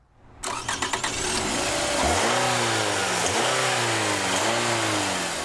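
A 2011 Scion xB's 2.4-litre four-cylinder engine cranks with a few rapid starter pulses, catches, then revs up and down in several rising and falling sweeps, close and loud.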